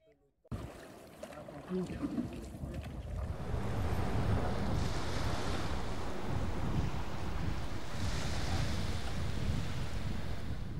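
Wind gusting and waves breaking around a small boat crossing the sea in rain, a steady loud broadband roar with rushing surf that swells after the first seconds and stays constant throughout.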